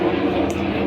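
A jet aircraft flies overhead, a steady low roar that stays even across the short moment, heard at a distance with no clear talk.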